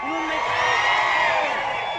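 A comedy show audience shouts, whoops and cheers together in one sustained, loud crowd roar, with no break for a couple of seconds.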